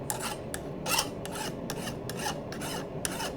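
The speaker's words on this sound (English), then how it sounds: "you take a file and you are going to push and see what sound it makes" A file rasps along a forged knife blade in repeated close strokes, a rough scraping rhythm of several even passes.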